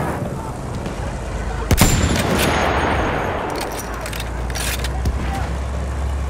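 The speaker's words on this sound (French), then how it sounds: "Mitrailleuse!" Machine-gun fire rattles through a dense Battlefield 1 combat scene, with loud sustained bursts over rumbling battle noise and a sharp crack near the start. Voices call out over the din.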